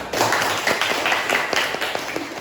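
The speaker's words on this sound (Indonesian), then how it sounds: "Ya, tepuk tangan." An audience claps during an Islamic talk, with a busy, uneven patter of hands that runs briefly and fairly close.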